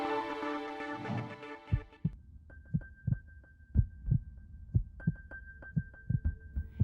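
Heartbeat, a slow steady thumping pulse of soft low beats about one per second, heard alone after a brief fading musical tone, with a faint high hum running underneath.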